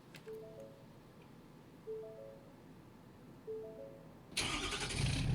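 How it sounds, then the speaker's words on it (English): Engine startup of a 2023 Ford F500 truck in the video game Snowrunner: quiet faint clicks and low hums, then a loud rumbling start that cranks up near the end and keeps running. "I love the sound effect for the startup."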